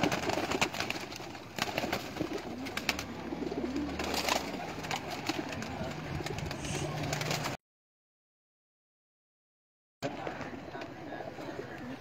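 Champion pigeons coo on a rooftop in Sheikhupura, soft low burbling calls heard at close range, while someone talks over them and the rest of the scene stays quiet.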